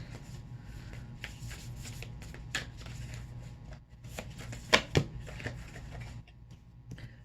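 Moonology oracle cards shuffled by hand in a steady run of soft riffling and flicking, close and moderately loud, with a couple of sharper snaps near the end and no talking.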